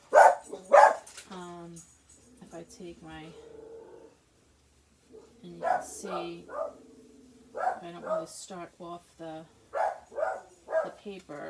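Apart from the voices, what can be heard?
dog barking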